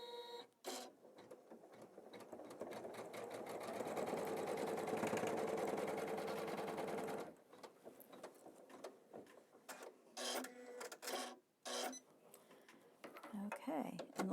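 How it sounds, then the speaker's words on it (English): A home embroidery machine stitches a border placement line on a quilted tree project, a steady mechanical chatter of needle strikes lasting several seconds, close, then stopping before scattered handling clicks and faint talk. "Then you're going to stitch the next border placement line"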